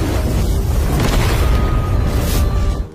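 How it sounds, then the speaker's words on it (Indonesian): A loud, rumbling explosion in an animated martial arts series roars continuously with deep low-end weight, holding its intensity before cutting off abruptly at the end. "Pada akhirnya ledakan pun terjadi."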